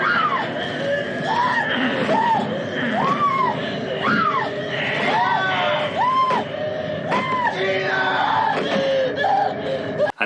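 A woman screams in terror in a horror film, a series of rising and falling shrieks repeated over a dense, loud bed of other voices and noise throughout.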